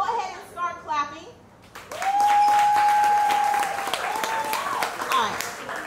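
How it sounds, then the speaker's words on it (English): At a five-year anniversary spoken-word show, a voice speaks briefly and then the crowd breaks into loud, dense clapping that carries on steadily, with cheering and whoops rising over it. "go ahead and start clapping"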